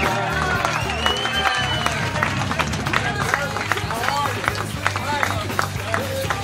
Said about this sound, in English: Clap it up for Aaron Berg.